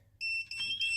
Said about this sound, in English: You hear the beeper went off, and now the buttons are flashing.